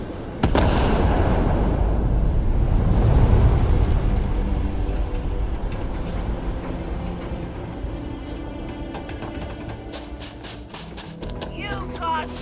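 A huge detonation goes off in the space game Starfield: a loud, sustained rumbling blast that starts abruptly and rolls on for several seconds before slowly fading, with scattered crackling debris and a voice briefly speaking near the end.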